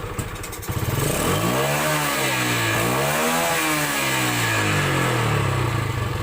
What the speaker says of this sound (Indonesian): Oh, suaranya kluk kluk kluk kluk kluk kluk kluk kluk